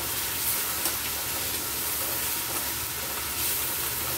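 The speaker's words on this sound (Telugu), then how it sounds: "అల్లం వెల్లుల్లి పేస్ట్ 1 టీ స్పూన్ వేస్తున్నా. ఇక్కడ బాగా ఫ్రై అవ్వాలి." Ginger garlic paste sizzles steadily in a hot pan for mutton curry, a constant loud hissing fry with faint stirring ticks throughout.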